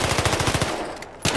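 Rapid automatic gunfire in Battlefield Hardline, a fast, loud burst of evenly spaced shots that breaks off, then one more blast right at the end.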